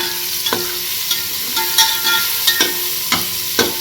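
Tomatoes sauté in oil in a pan for a vegetable dish, with a steady sizzle broken by several distinct scrapes and taps of a spoon stirring against the pan, close and without talk.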